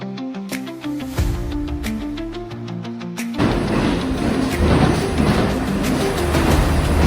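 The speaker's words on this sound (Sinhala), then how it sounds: "කෝච්චිය ආවෙන් අපි දැන් යන්න දැන් කෝච්චිය." A train pulls into Diyatalawa station with ringing metallic squeals and tones, then a louder, dense rumble and roar of rolling carriages as it draws near and passes close.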